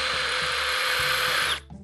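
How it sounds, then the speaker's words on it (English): A power drill with a long bit bores an angled pocket hole into wood, a loud continuous high motor whine that cuts off abruptly near the end, leaving quiet. "I'm going at such a severe angle and my drill bit isn't all the way through yet"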